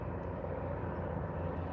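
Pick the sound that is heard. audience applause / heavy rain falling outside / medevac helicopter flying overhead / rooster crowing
medevac helicopter flying overhead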